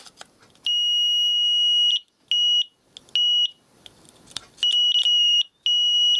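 Piezo beeper on a car immobilizer receiver module, powered straight from a battery, gives a shrill steady tone in several on-off bursts of varying length, loud and close, with brief handling noises between.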